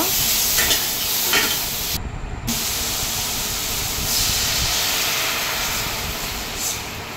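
Homemade mango chutney with turmeric and salt bubbles in a pot after water is poured in, giving a steady close hiss and simmering sizzle with a brief quiet break.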